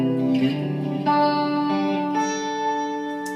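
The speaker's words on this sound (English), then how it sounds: "Back to chorus." Electric guitar through a Line 6 Pod HD500 chorus effect, a few ringing chords changing roughly every second, with a shimmering, doubled sustain.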